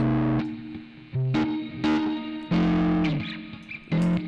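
Short synth or instrument phrases pass through the Tritik Krush plugin's fuzzy, organic drive distortion with a ring-modulator-like edge, producing gritty, buzzy notes in separate bursts with gaps between them.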